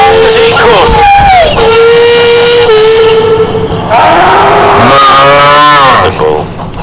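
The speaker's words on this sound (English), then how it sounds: "This time, Duncan whistled as loud and as long as he could." A steam engine named Duncan lets out a loud, long whistle, and a bull's deep, sliding moo mixes into it and follows it, all close and forceful.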